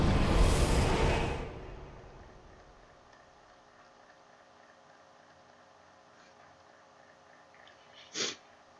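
A single loud, close sneeze bursts out during a Dark Souls 3 gaming session, followed by several seconds of near-quiet and a brief soft click near the end.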